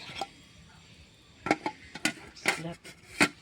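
A cooking pot is set down and covered, producing a series of sharp metallic clanks and clinks from the pot and its lid, spaced irregularly over a quiet kitchen background.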